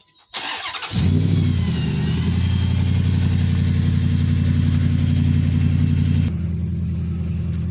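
A Dodge Aspen car engine cranks briefly and catches, then runs at a steady, loud idle close by, the pitch dropping slightly near the end, with no talking.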